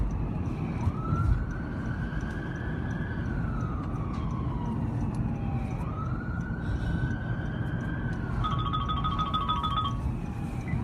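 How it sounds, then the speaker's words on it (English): Police siren wails through a phone call recording, rising and falling in long sweeps across the whole stretch with a rapid yelp pattern near the end, heard over a steady muffled background rumble. "You hear the sirens?"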